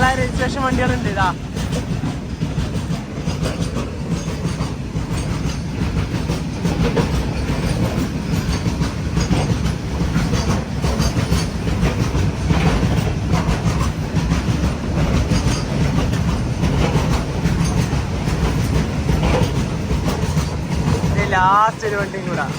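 Lorries, some on Kerala plates, ride a Ro-Ro train rolling past, a sustained heavy rumble with rhythmic wheel clatter and brief squeals, with someone speaking over the noise.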